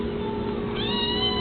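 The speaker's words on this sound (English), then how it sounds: "Is that the Siamese in you making that noise?" Siamese-mix cat giving one drawn-out, loud meow close up, its pitch rising partway through and holding to the end.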